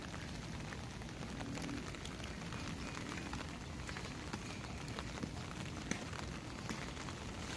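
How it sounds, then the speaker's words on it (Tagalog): Steady rain falls over a small backyard vegetable garden, a dense, even patter of drops with occasional sharper ticks on nearby surfaces, soft and continuous with no talking. "maulan ngayon"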